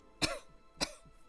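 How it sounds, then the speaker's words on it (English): A person coughs twice, two short, sharp, close bursts about half a second apart, each trailing into a brief throaty rasp. "I coughed instead."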